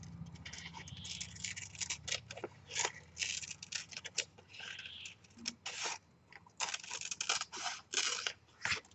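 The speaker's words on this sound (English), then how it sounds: "Let's cut away the excess from our foam." Scissors snip away excess foam during a faux leather wallet project, a quiet series of irregular close cuts and rustles with brief pauses between them.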